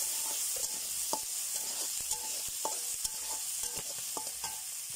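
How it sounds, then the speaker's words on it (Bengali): Chopped onions and green chilies fry in hot oil left from frying rohu fish, a steady sizzle broken by regular scraping knocks of a spatula stirring the pan. No one speaks. "এখানে আমি দিয়ে দেবো পেঁয়াজ কুচি, সাথে দিয়ে দেবো মরিচ কুচি। তো এগুলোকে আমি একটু ভেজে নেব"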